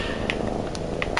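A domestic cat purring nearby while sitting on a person, a low continuous rumble running steadily under faint household background noise.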